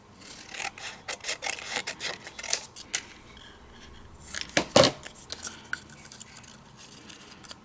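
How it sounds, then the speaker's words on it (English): Scissors snipping a strip of pink paper for a 3D pop-up craft vignette, a series of quick, close crisp cuts with a sharper louder snip near the middle. "So I'm just going to cut a little strip that I think would work."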